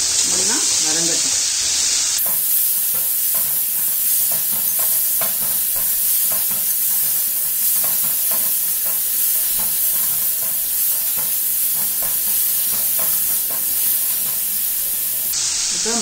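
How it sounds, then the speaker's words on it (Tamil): Pumpkin and tomato sauté in a pan for a gotsu, giving a steady sizzle and hiss with repeated scraping stirs throughout and no talking. "பரங்கிக்காயும் தக்காளியும் நல்லா வதங்கட்டும்."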